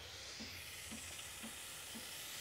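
Espresso machine steam wand hissing continuously at a faint level, with soft regular thumps pulsing about twice a second underneath.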